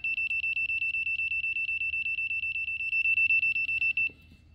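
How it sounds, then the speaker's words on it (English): Erickhill EMF meter with its sound turned on, beeping rapidly and steadily in a fast even train of high electronic pulses for about four seconds before stopping, close and alone. "if you want to hear it, you can turn on sound"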